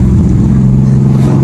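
An aftermarket cammed Dodge SRT engine drones loudly and continuously from close by, with a deep, choppy low rumble that swells slightly toward the end as it revs under load.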